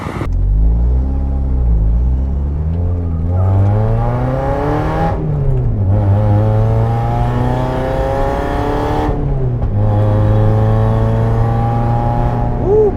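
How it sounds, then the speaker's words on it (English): Car engine climbing a hill in repeated gear pulls, the revs rising steadily, dropping sharply at each shift and building again, loud and close throughout. "Beat that car coming up."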